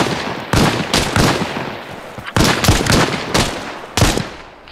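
Rifle gunfire in Arma Reforger during boot camp training, a rapid string of loud, close shots in quick bursts with short pauses between, with no talk.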